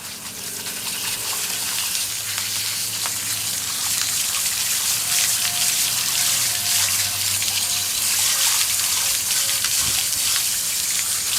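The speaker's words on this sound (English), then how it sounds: "And then we hose it off." Water from a hose gushes steadily over a Mazda 626 valve cover, a loud continuous spray hiss with occasional splatter, close by and without talk.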